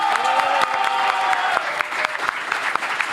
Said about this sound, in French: un tonnerre d'applaudissements pour Pemf, mesdames et messieurs